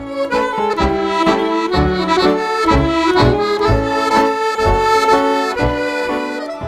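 A Strathspey phrase is played with a Scottish snap, a lively tune of short accented notes followed by longer ones, bright and close, with no talking.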